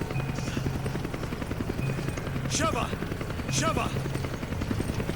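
A helicopter circles overhead in the co-op video game Resident Evil 5, its rotors chopping steadily throughout. Occasional bursts of gunfire and voices are mixed into the game sound.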